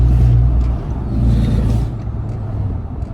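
Ram 2500 pickup with a 6.7L diesel and a Pedal Commander throttle controller idles with a deep rumble, then gives a brief soft rise in engine note before settling back, heard up close outdoors.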